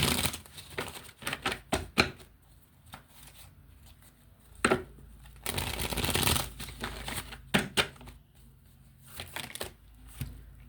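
Tarot cards are shuffled by hand in quick riffling bursts of rapid flicks and snaps, separated by short quiet pauses, close and alone with no talking.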